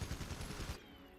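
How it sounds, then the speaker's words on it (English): Rapid bursts of railgun fire in the video game Gigantic, a loud stuttering volley of shots that stops abruptly after under a second, followed by a faint fading tail. "So that's railgun pretty much."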